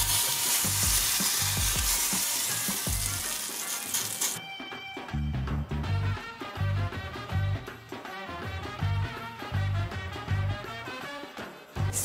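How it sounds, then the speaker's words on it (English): Smoking-hot oil poured into murtani, a Trinidadian roasted pepper choka, bursts into a loud, close hiss for a few seconds. The mixture is then stirred while rhythmic tonal background sounds carry on to the end. "add some oil to a culantro or to a small pan and let it reach its smoking point. And then add it to the Murtani and just mix it in."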